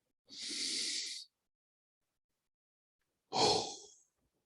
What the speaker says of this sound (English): Such as a healing breath for Tonga.